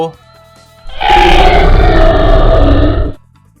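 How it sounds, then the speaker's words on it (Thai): A black panther gives a roar in a fantasy manga story: one loud, rough, growling burst lasting about two seconds, then it cuts off into quiet. "เสียงคำรามนั่น นั่นคือเสือดำเมื่อ3 ปีที่แล้วอย่างนั้นเหรอ"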